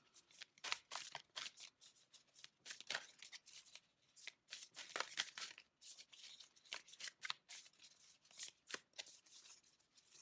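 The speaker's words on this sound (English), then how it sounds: "They're so hard to shuffle." Tarot cards are shuffled by hand in rapid, crisp riffling bursts with brief pauses between, close to the ear but quiet, with no talking.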